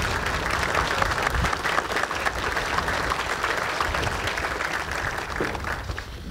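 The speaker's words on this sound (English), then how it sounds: "Please join me in a round of applause for all of them." A large audience applauds soldiers at an Army assumption of command ceremony, steady dense clapping sustained throughout, loud and even, with no talking over it.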